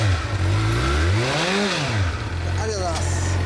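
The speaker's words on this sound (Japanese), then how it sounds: "エンジン音聞かせてもらえますか。" A Suzuki GSX-R600 motorcycle engine idles loudly close by, then revs up sharply and drops back down, with a brief second blip of throttle near the end.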